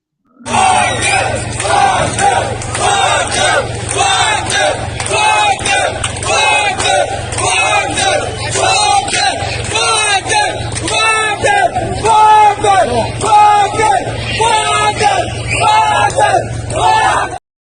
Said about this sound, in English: they're cheering for the Wagner Group